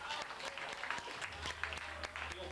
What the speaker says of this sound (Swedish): Så ge honom en applåd.